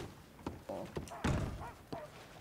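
Horses in the Red Dead Redemption video game, with scattered hoof thuds and clops at an uneven pace, fairly faint, with low game ambience beneath.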